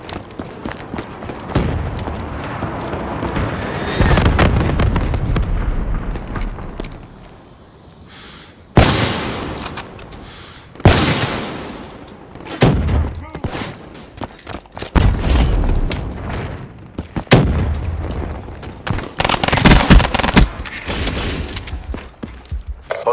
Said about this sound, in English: Hostile hellstorm overhead.